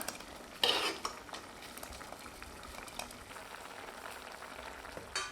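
Soft scraping of a spoon stirring fenugreek leaf sambar in a pot, with a louder clatter near the start and gentle bubbling beneath, no talking.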